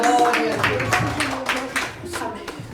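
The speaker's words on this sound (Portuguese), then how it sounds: "Louva o Senhor com as palmas" A church congregation claps their hands in praise, rapid overlapping claps in a loose rhythm with voices singing and calling out over them.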